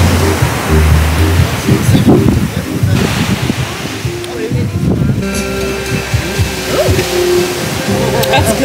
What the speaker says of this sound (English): lovely beach.